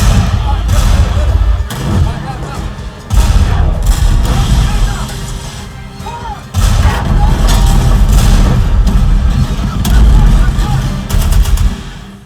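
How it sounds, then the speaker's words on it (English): Bombastic tank rumble and rapid machine-gun fire from the war film Fury, played loud through a pair of compact home-theater subwoofers, with dense sustained low-end bursts and brief drops between volleys. "Next demo are those bombastic tanks and machine guns in Fury."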